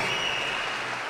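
An arena crowd claps after an international boxing bout ends, a brief burst of continuous applause at steady loudness with no voices above it.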